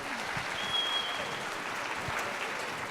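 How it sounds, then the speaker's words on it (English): Steady applause from a school STEM event audience, even and sustained clapping throughout the short stretch at moderate distance, with no talk over it. "Give me a round of applause for that."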